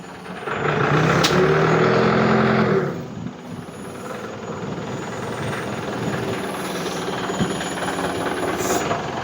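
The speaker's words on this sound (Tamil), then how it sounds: "வண்டி ஆன் பண்ண போகிறோம் ஆன் பண்ணிட்டு பூமெண்ட் ஆன் பண்ணி போகிறோம்" A crane truck's engine starts and its boom powers up, a loud, close mechanical roar with a rising whine that settles into a steady, slightly rattling rumble.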